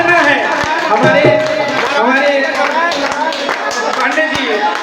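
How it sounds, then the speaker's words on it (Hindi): An audience claps along in rhythm at a Hindu bhajan gathering during a Bhagwat katha, with steady repeated claps under loud singing and music. "ताली बजाइए सभी लोग, और ताली बजा के नाचना है।"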